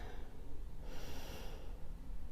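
A single deep breath is drawn and released through the nose during a slow yoga flow, soft and close in an otherwise quiet room.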